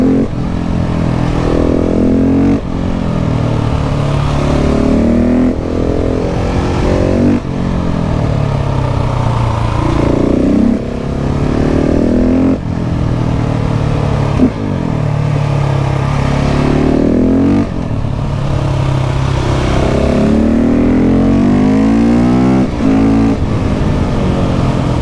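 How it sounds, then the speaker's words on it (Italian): A KTM 690 SMC R supermoto with its LC4 single-cylinder engine, loud and close, revving repeatedly with rising and falling pitch sweeps as it accelerates through the gears and backs off, with no voices over it. "bando le ciance sul volume ragazzi, che c'è il sound dell'LC4 mono"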